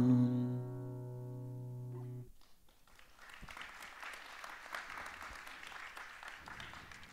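A congregation applauds after a concert, with a sustained electronic tone cutting off before a dense, moderately loud spread of clapping fills the rest.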